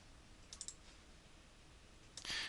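A computer mouse clicks the Enable button in a web settings page: a couple of faint, quick clicks early on, then a brighter, louder click near the end over quiet room hiss.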